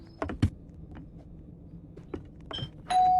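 Doorbell chime inside the Roblox horror game Lakehouse, a few short electronic tones over quiet game ambience, followed by a louder sustained tone near the end.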